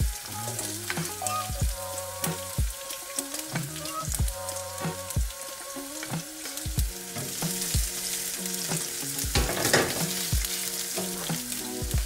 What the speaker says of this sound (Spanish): vamos a poner a sofreír nuestros bastoncitos de cebolla